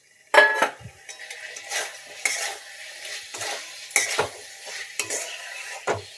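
A spoon stirs fried shrimp and boiled potatoes in a pan, making a string of sharp scraping strokes and clinks over a low sizzle, loud and close, with short pauses between strokes.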